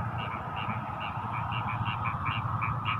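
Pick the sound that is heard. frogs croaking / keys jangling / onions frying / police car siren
frogs croaking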